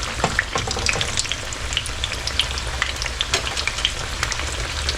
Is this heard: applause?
no